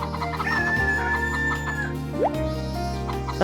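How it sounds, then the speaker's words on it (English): A chicken in the Harvest Moon: Save the Homeland video game clucks and squawks as it is picked up, a bright rising and falling call over a steady game music loop. "See, that time I picked up a chicken."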